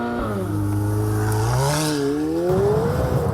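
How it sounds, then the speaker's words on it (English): A 2018 McLaren 720S engine roars through its optional sports exhaust, loud and close, the pitch climbing and dipping through revs with a raspy, layered note and no talk over it. "thanks to the embellishment here of the pricey optional sports exhaust system that most owners tend to specify, there's quite enough aural drama"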